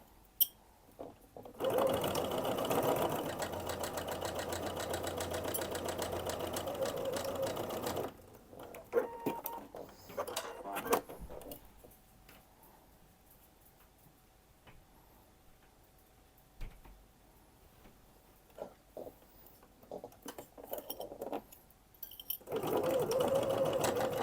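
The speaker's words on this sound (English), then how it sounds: "So now I will sew these." A sewing machine stitches a dress bodice with a keyhole neckline, running steadily for about six seconds and then again in short bursts near the end, with a quiet pause between runs.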